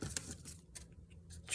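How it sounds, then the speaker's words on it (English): Scissors snip through paper for a junk journal insert in a short run of close, crisp cuts, each one a quick dry click, heard alone in a quiet room. "I can do that pretty close with my scissors."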